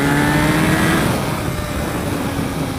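Honda FireBlade CBR954RR sport motorcycle engine roaring loudly and steadily, a dense close-up rev that eases slightly toward the end.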